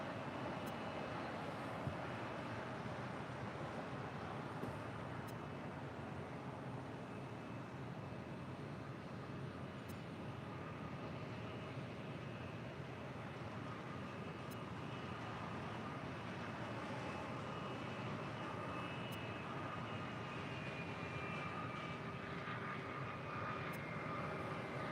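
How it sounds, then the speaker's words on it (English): JetBlue Airbus A320 arriving from SFO on approach to land at LAX, a steady broad engine roar that holds level throughout with a faint high whine on top. "the JetBlue A320 coming in from SFO"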